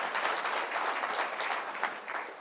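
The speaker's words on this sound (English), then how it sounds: "Please give him a huge round of applause and warm welcome to Mr. Matt Kelley." Sustained audience applause welcoming a speaker onto the stage, a dense, even wash of many hands clapping at steady volume throughout, with no voices over it.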